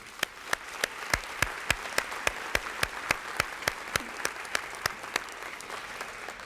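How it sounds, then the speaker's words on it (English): A crowd at a teacher honors ceremony applauds, with a steady wash of many hands under regular sharp, loud claps from one nearby person keeping an even rhythm throughout. "Let's give each of them a round of applause."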